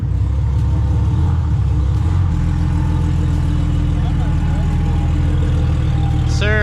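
A car engine, said to sound like a V8, runs steadily at a low idle with a deep rumble and slight pitch shifts, loud and close, with a brief whistle-like sweep near the end.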